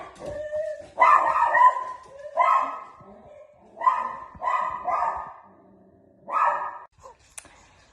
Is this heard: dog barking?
yes